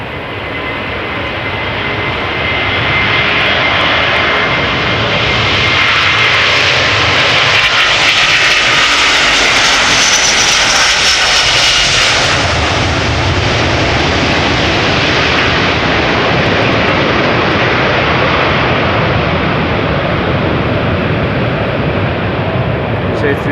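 A Delta Air Lines Airbus A330neo jet departing Amsterdam Schiphol, its loud, close engine roar building quickly and then holding at full power as it passes.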